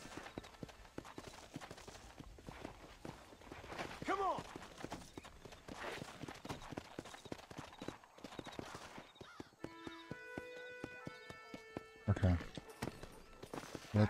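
Horse hooves clip-clop steadily in Red Dead Redemption, a rhythmic run of hoofbeats at moderate distance with a brief whinny, under game music and someone talking quietly over it.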